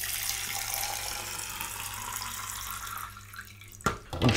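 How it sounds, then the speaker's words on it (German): Filtered water pouring into an empty coffee machine water tank, a steady close rushing splash that thins out and ends in a few brief clunks of handling. "tun wir den Tank, der jetzt leer ist, mit 2 Liter gefiltertem Wasser befüllen"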